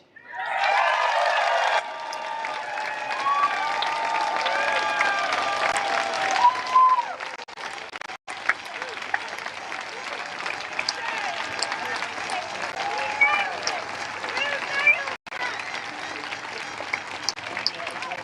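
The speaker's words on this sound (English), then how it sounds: "we're clapping everybody here" A crowd at an outdoor Extinction Rebellion protest bursts into loud clapping for a couple of seconds, then the noise thins into a murmur of many voices and scattered sounds that carries on for a long stretch.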